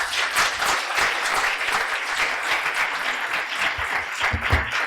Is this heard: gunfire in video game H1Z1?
no